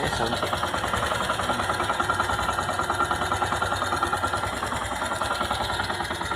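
Yamaha YTX 125 motorcycle engine idling after a tune-up with valve clearance adjustment, a steady close rhythmic putter with fast even pulses throughout.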